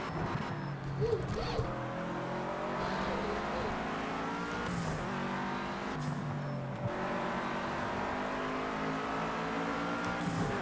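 A Cosworth-engined race car in Project Cars 2 holds a steady, loud engine drone with shifting revs and brief dips, heard close over a continuous background with some talk.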